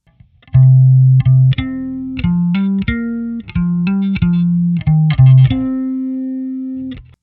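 A short bass guitar line from a song of distinct plucked low notes, clear and close, ending on a longer sustained note, played alone.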